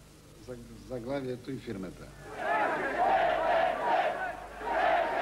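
A huge opposition crowd chants loudly at a political rally, a dense roar of voices with rising and falling waves. A lone voice speaks briefly before the crowd swells in.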